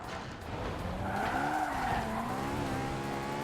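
Car in Forza Horizon 4 accelerating hard with a rising engine whine and sustained tire skidding squeal, steady and loud throughout.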